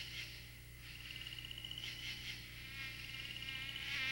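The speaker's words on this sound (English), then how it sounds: "The buzz of katydids and croak of frogs begin." In a forest, katydids buzz in pulsing, rasping bursts over a steady low drone of croaking frogs and insect chorus, faint and continuous with no talking.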